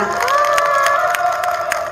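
An audience at a song lyric-rewriting contest at the 2021 Jecheon herbal bio expo cheers and claps together, a steady wash of raised voices with scattered sharp claps running through the whole stretch.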